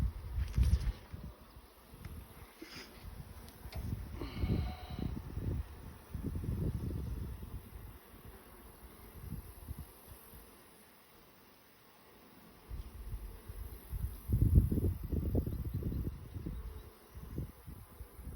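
A low, steady hum of honeybees buzzing on a hive frame, swelling and fading in waves, close up, with occasional rustling and no talking.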